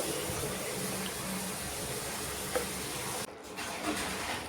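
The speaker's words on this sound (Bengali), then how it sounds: "এবারে জল দিয়ে দেবো। জল খুব একটা বেশি দেব না" Water pours into a pot of chicken and potato curry, a steady close rushing splash that cuts off sharply near the end, with no voices.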